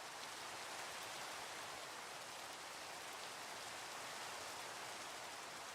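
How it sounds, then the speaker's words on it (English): Steady rain falls in Minecraft, a dense, even hiss that holds at the same level throughout with no breaks, filling the whole scene alone without any talk over it. "Ugh, great. Rain."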